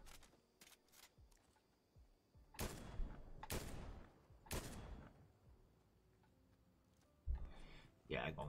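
Gunfire in a multiplayer shooter video game: a few sharp, loud shots in a short burst amid quieter clicks and game noise, with players talking over it.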